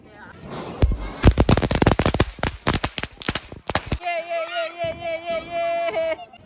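Diwali fireworks and firecrackers bursting during an ingoriya fight, a fast, loud volley of sharp, close bangs for about three seconds, then excited voices shouting over the lingering crackle.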